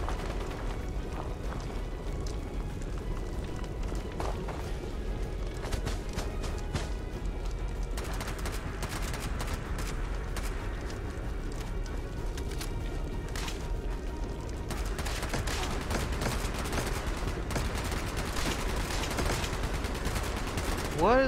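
Sustained gunfire in Fallout 76, a dense stream of rapid shots and clatter running continuously at steady loudness with faint speech mixed in.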